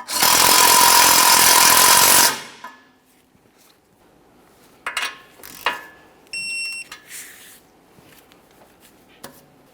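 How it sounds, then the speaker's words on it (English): An impact gun snugging the outer tie rod end nut on a 2015-2019 Subaru Outback, a loud continuous rattling burst of about two seconds, followed by quiet clicks and light metallic taps. "Snug that nut."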